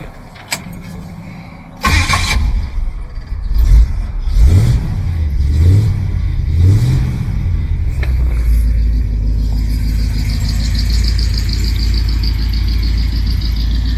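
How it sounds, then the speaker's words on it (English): A 1965 AMC Rambler 770 restomod with dual exhaust and glass-pack mufflers cranks, fires up and catches with a few revving blips, then settles into a loud, close, steady rumbling idle, with no talking. "I'll do a quick start for you guys so you can hear it run."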